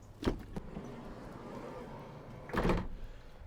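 The sliding side door of a 2019 Ford Transit Custom van rolls and thuds once near the start, then slams shut with a heavier burst near the end, over a quiet low hum.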